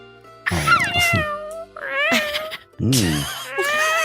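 A voice imitates a cat, giving several drawn-out, wavering meows separated by short pauses, loud and close.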